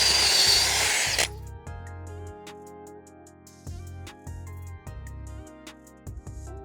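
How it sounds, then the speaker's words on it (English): A power drill bores the last two holes for a dock net pad eye, one loud close whine at the start, then softer short bursts and taps with pauses between. "you can go ahead and drill the last 2 holes"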